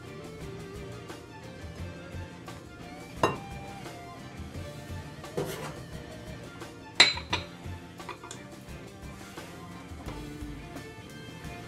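Salt is mixed into dry cake ingredients in a bowl, with repeated clinks and scrapes of a utensil against the bowl and a few sharper knocks spread through a steady, quiet stirring.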